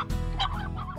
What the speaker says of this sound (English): It's just a couple of chickens.